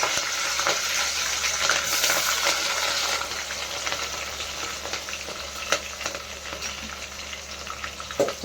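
Garlic and green chillies fry in hot oil for a cabbage keema fry, giving a continuous close sizzle with light crackles and occasional stirring clinks, gradually easing off toward the end.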